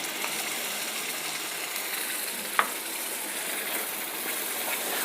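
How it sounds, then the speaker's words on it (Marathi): Ground masala paste sautés in hot oil for a cauliflower rassa bhaji, giving a steady, close crackling sizzle throughout with one brief sharp click near the middle. "वाटण मसाल्यांमध्ये चांगलं परतून घ्यायचं आहे"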